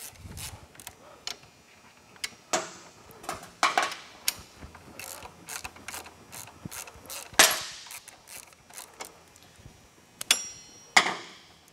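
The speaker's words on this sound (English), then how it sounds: "we can go and remove our two 12 millimeters that are holding it to the carrier" A hand ratchet loosens the two 12 mm caliper bolts on the front brake of a Honda TRX ATV, giving bursts of sharp, close metallic clicking with short pauses between them and no talk.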